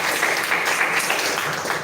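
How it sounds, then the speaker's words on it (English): An audience at a panel discussion applauds, a continuous dense patter of clapping at steady volume throughout the short stretch. "Give applause for them."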